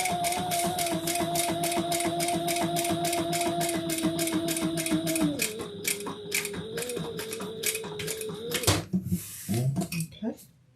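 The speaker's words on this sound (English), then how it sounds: "I'm going to back stitch pretty well" A sewing machine back stitching a leather messenger bag runs in a fast, steady mechanical rhythm for most of the clip, the tone dropping partway through, then stops and gives way to a few scattered handling clicks near the end.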